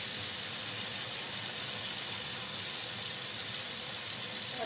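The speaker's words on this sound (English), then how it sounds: "I'm going to wash the pan now." Running tap water pours steadily into a sink as a pan is washed beneath it, a continuous, fairly quiet hiss and splash that lasts throughout with no talking.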